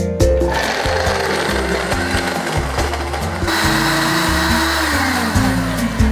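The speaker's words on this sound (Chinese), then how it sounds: "打坚果的时候呢，我们就按下蓝色的键" A countertop blender runs steadily on a high-speed setting, grinding nuts with sesame, ginger, chili powder, olive oil and sauce ingredients for a Korean-style barbecue marinade, a loud continuous whir with shifting low-pitched churning throughout.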